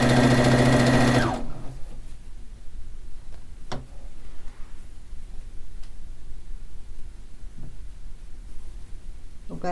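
A sewing machine stitches pieces of a fish quilt in a loud, quick whirring burst lasting about a second, followed by near quiet broken by a few faint clicks and ticks.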